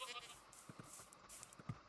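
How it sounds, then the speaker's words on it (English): Goats bleating faintly in Minecraft, a few short, distant game-sound bleats over quiet background ambience. "Ooh, we have some goats."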